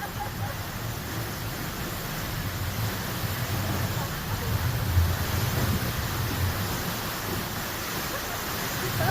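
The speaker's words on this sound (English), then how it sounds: "We are at Fairy Falls. And we're going to go in the falls." Roaring rush of Fairy Falls waterfall at Milford Sound, New Zealand, a steady dense wash of falling water up close, loud and continuous throughout.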